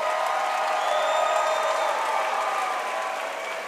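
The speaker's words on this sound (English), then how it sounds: "Ladies and gentlemen, stay loud for these 2 warriors." A crowd at a cage fighting event applauds and cheers in a steady, dense roar of clapping and voices that holds throughout and eases slightly at the end.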